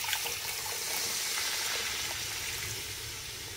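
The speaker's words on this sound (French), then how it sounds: "Je rajoute 2 grands verres d'eau." Water is poured into a cooking pot of vegetables for Senegalese thieboudieune, a steady close splashing rush that holds for a few seconds and slowly eases off.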